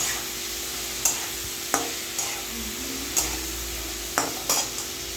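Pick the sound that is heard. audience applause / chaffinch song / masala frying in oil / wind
masala frying in oil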